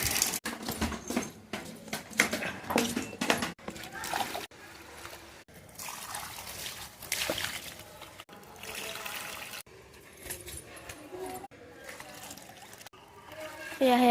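Water overflows from a full tank in a front yard and splashes into a bucket below, a continuous close trickle and gurgle that shifts in strength.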